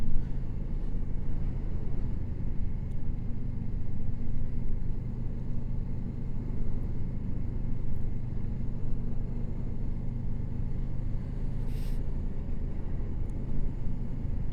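Moto Morini 6 1/2 motorcycle trundling at slow speed through town streets, a steady low engine and road rumble throughout with no pauses, close and continuous.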